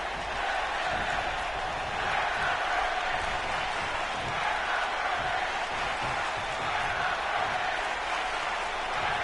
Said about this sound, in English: Crowd just going nuts, wanted to see this happen